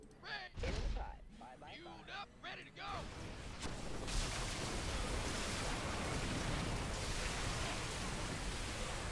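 Tank artillery fire in StarCraft II Direct Strike starts as a dense, steady roar of rumbling blasts. It follows a few seconds of someone talking and continues loud and unbroken to the end.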